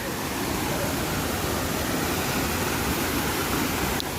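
Gadchandi waterfall in Keonjhar forest gives a steady, broadband roar of falling water, unchanging and fairly loud for the whole stretch with no voices over it.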